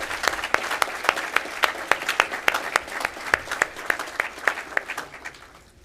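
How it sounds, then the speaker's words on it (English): Audience applause at a Montana FFA convention general session, rhythmic and fairly loud clapping in a large hall that gradually tapers off. "Please give these individuals a round of applause for all the hard work they put in this process."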